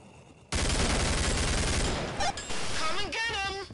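Gunfire in the Killing Floor video game: a loud, dense, continuous burst of rapid shots starts abruptly and runs for about two seconds, then eases as a voice shouts over the tail.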